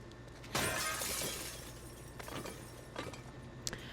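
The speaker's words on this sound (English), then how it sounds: "Put your hand right into all that broken glass." Glass shatters in a video game with a sharp, loud crash, followed by several smaller tinkling breaks and crunches of shards over the next few seconds.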